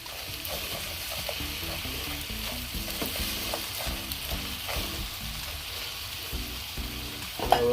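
Shrimp for Chinese-style fried rice fry in a hot pan with a continuous close sizzle, while repeated rhythmic tossing and stirring scrapes run throughout and no one speaks.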